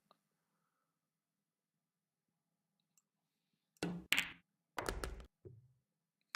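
Pool balls collide on a tricky cut shot in a match, heard as a few sharp clicks and knocks in quick succession after near silence, close and fairly crisp.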